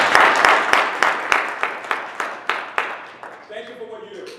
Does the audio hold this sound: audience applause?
yes